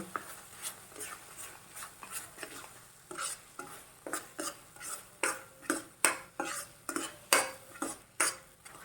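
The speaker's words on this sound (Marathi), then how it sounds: "गुळ टाकल्यानंतर थोडंसं पातळ होतं तर ते घट्ट होईपर्यंत आपण हे बन हलवत राहायचं" Homemade amla chyawanprash thickening with jaggery in a pan is stirred steadily, a spoon scraping and clinking against the pan in repeated strokes that grow louder and more regular, close by with no talking.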